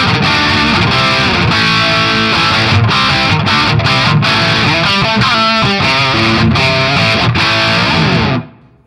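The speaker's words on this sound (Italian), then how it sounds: "iniziano a farsi interessanti queste distorsioni" An electric guitar runs through a VGE250 multi-effects pedalboard on a Brit 900 amp simulation, playing loud, crunchy distorted chords and riffs that ring steadily before cutting off abruptly at the end.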